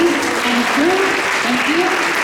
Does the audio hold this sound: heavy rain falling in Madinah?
no